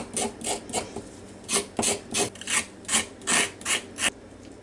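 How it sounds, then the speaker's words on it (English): Carrots being scraped with a peeler or knife in a home kitchen, a steady run of about ten rough, rasping strokes in an even rhythm, close and clear with no talking. "the smaller the carrots are, the easier they are to scrape"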